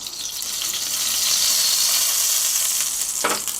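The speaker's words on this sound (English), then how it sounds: "we're going to throw in the shallots and cook them for about 5 minutes until they're nice and soft" Shallots sizzle in olive oil in a cast iron skillet over medium-high heat, a steady loud frying hiss that swells slightly and ends with a short stirring scrape.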